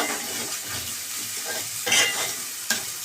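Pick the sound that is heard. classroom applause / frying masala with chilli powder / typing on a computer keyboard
frying masala with chilli powder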